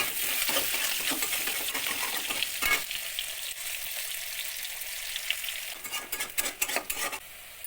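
Whole cumin seeds and onion fry in mustard oil, giving a bright continuous sizzle, with spoon scrapes and clatter against the pan growing busier toward the end.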